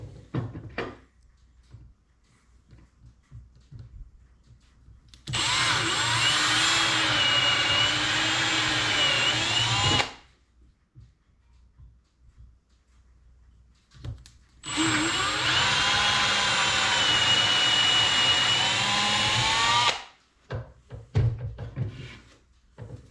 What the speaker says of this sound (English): I've gone ahead and set the depth gauge on the drill bit, so it will drill in